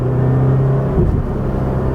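A naturally aspirated 2017 Subaru BRZ engine hums steadily, then rises briefly in a revving surge as it accelerates, before settling into a low, close rumble.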